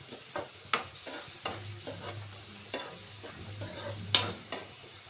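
Raisins fry in ghee and oil for biryani with a low, steady sizzle, while a utensil scrapes and taps the pan in sharp, irregular strokes.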